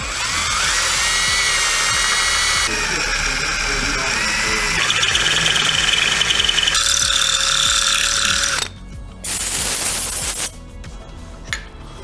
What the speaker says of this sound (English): We're going to use a small drill bit and a punch so it doesn't walk around